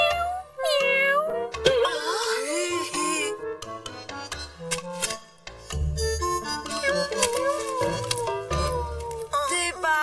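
Cartoon cat meows repeatedly in a Chinese animated series, high pitched voiced cries, likely voice-acted, sounding over light background music and effects throughout.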